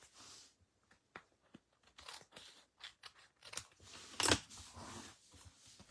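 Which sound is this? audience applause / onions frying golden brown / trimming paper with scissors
trimming paper with scissors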